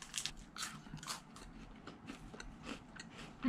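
Someone chews a roasted chestnut close to the mic, giving a run of soft, irregular crunches and mouth sounds with no talk.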